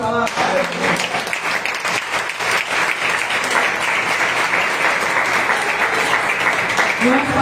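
A church congregation applauds during a sermon, a steady, dense wash of clapping from many hands that fills the whole stretch, with a voice briefly audible at the start and end.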